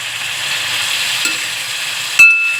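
Green chilies, slit lengthwise, sizzle steadily in a hot pan while being stirred, a soft continuous frying hiss with a brief scrape midway and a sharper clank of the utensil near the end.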